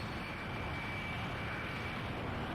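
Helicopter engine in the Garry's Mod game, a steady, even droning roar with broad rumble and a faint high whine, continuous and unchanging in level with no talk over it.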